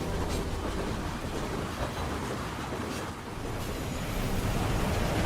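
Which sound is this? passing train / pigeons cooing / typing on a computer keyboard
passing train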